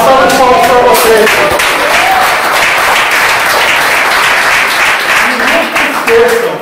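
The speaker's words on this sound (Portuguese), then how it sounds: "Uma salva de palmas para vocês." Audience at a motivational lecture bursts into dense, steady applause for the whole stretch, with voices and a few tonal sounds rising over the clapping near the start and again at the end.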